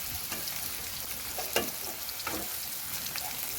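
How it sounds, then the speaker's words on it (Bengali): Steady oil sizzle of banana slices frying in a pan, with a few soft scraping stirs breaking through the constant crackle. "দেখুন এরকমভাবে কলাগুলো আমি ভেজে নিই।"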